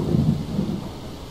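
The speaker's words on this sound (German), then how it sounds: "Mit Gewitter." A thunderstorm in Pineview Drive: a low, rolling rumble of thunder builds and fades over a steady hiss of rain, with no voices.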